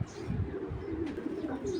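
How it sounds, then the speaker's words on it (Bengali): A cheeta military giribaz pigeon gives low, throaty cooing close by, soft and repeated over a steady murmur of background noise, with no one talking. "এই চিতা মিলিটারি গিরিবাস কবুতর জোড়াটা এবং এইটা আপনারা ছেড়ে দেখাই কবুতরটা"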